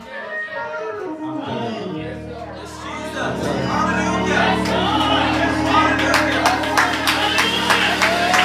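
A church congregation starts clapping hands during a birthday celebration service, scattered at first and then a sustained rhythmic clapping with crowd noise beneath it.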